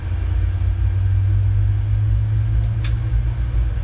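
Aircraft engines running in a flight simulator game, a steady loud low drone with constant hum and no change in pitch, and a brief faint click near the end.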